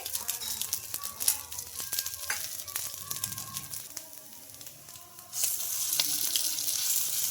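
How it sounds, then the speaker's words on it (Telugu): Cutlets shallow fry in a little oil in a pan, giving a continuous close sizzle and crackle that grows brighter and louder toward the end, with no voices. "ఇప్పుడు వీటిపైన కొంచెం ఆయిల్ అయితే వేసుకుంటున్నాను ఇలా తక్కువ అయితే ఇలా చాలా ఫ్రై అయితే చేసుకోవాలండి కట్లెట్స్ అయితే"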